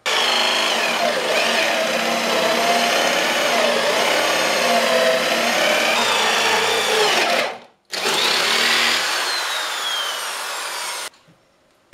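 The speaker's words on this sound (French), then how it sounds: "On va l'essayer avec une perceuse électrique." An electric drill bores into wood in a workshop, running loud and continuous for several seconds, stopping briefly, then running again before cutting off.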